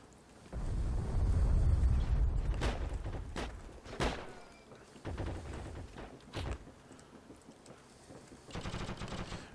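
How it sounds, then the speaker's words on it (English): Frag grenade blasts and gunfire in a shooter video game, with a heavy rumbling boom at the start followed by sharp, scattered shots and bursts at varying distances and no talking. "You can hear when those frags are coming."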